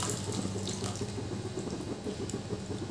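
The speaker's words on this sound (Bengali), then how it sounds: "এবার আমি দিয়ে দিচ্ছি 1 কাপ দুধ।" One cup of milk pours into cooked masala for shahi paneer, a steady liquid rush lasting a few seconds at close range, with no voices.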